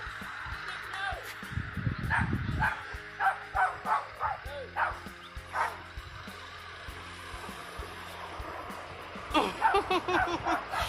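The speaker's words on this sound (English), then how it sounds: "This dog is chasing after this man" Dog barking outdoors on a street while chasing after a man, a series of sharp barks and yips of moderate loudness, with a pause and then a faster burst of barking near the end.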